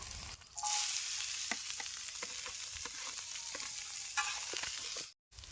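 Vegetables for chowmein (cabbage, carrot, onion, capsicum, beans, green chilli and ginger) stir-fry in a hot pan, giving a loud, steady sizzle with repeated sharp scrapes and clanks of the spatula, cut by a brief pause near the end.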